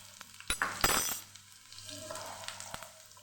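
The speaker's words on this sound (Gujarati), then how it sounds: "થોડી બ્રાઉન કલરની લસણની કળીઓ થઈ ત્યાં સુધી આપણે આને સાતડવાની" Garlic cloves and cumin sautéing in oil, a faint sizzle with a few sharp clinks of a utensil against the pan, then a softer frying hiss.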